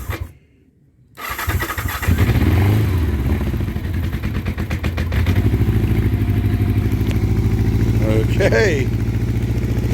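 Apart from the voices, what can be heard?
1984 Honda CB700SC Nighthawk motorcycle engine running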